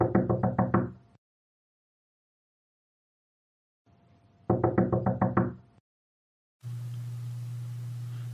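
Tapping on the outside of a door: two bursts of about six quick, even knocks separated by silence, moderately close, followed by a steady low hum of background noise.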